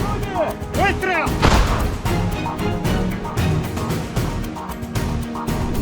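A single loud artillery blast from a Russian gun crew's piece breaks through continuous talking. Thuds and outdoor noise follow under the voices.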